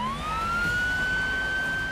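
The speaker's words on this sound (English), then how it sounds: "As police turn on their sirens, the Nissan accelerates" A police car siren wails steadily and loudly in a rising, sustained tone as officers chase a white Nissan driving without headlights through a residential neighborhood.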